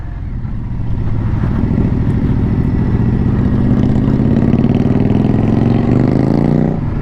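A Bobber motorcycle engine runs while being ridden: a loud, close, continuous throaty drone whose pitch climbs steadily as it accelerates, then eases slightly at the end, with no talking.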